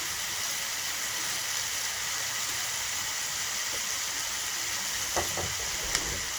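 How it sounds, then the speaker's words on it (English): Tap water running steadily into a kitchen sink while hands are washed, a constant broadband hiss with a couple of small splashes and clunks near the end, no talk. "I gotta wash my hands"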